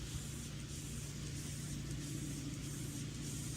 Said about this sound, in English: So now I will also spray on the other side.